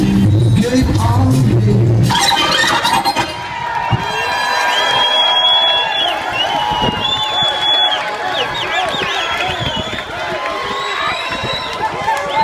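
Lively crowd at a reggae sound clash on a cruise, cheering, whooping and clapping over music and an MC's voice, loud at first then settling into a busy roar.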